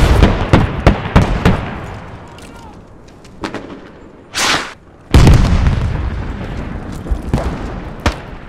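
Grenade blasts and gunfire in the military shooter game Squad: a cluster of sharp shots, then a loud explosion with a rumbling tail, followed by more heavy booming under brief voice chat.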